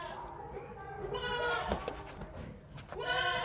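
A healthy, stout young goat bleats in loud harmonic calls, one around the middle and another rising strongly near the end, with handling noise and a brief voice between.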